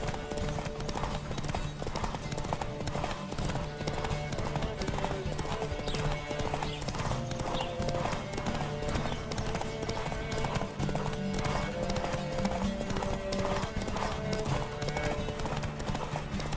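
Rapid hooves clatter in a steady galloping rhythm throughout, loud and continuous, with a horse's whinny mixed in over a busy background, in the video game The Witcher 3: Wild Hunt.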